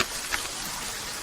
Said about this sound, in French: Ne reste pas sous la pluie.